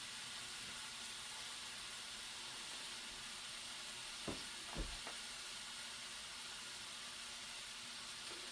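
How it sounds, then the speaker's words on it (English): A steady, faint hiss of sausage sizzling in a hot pan, broken by a couple of brief clicks midway. "Keep that sizzle on there to make sure your meat's browning all the way through."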